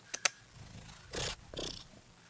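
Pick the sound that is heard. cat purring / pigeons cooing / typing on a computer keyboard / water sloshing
cat purring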